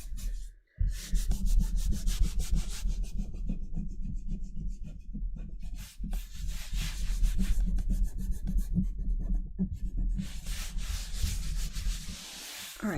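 Muslin fabric is rubbed firmly over an inked gel printing plate, a continuous rasping, scrubbing friction of repeated back-and-forth strokes, close and moderately quiet, with a brief pause near the start.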